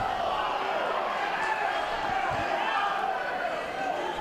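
Crowd chanting at a Navy vs Marines men's soccer match, a steady rhythmic chorus of many voices heard at a distance under a commentator's talk.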